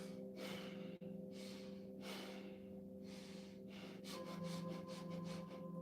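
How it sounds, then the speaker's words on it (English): A person shows stressful breathing with quick, sharp sniffs and gasps that repeat every second or so, close and quiet, over a steady low hum. "Here's stressful breathing."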